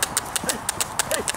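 Two TV remotes knocked together imitate horse hooves, giving a steady, close clip-clop of sharp, evenly spaced knocks, with a faint voice murmuring underneath.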